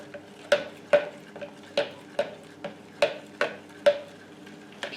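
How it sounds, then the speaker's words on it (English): Triple chocolate muffin batter is mixed in a bowl, a utensil knocking and scraping against the side in an even rhythm of about ten sharp taps, close and alone. "we're just going to give that a nice mix"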